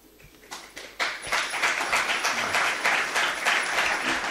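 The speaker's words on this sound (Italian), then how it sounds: "Me l'hanno strappato l'applauso" An audience at an Italian book presentation breaks into applause, starting sparse and swelling at about one second into dense, sustained clapping that holds to the end.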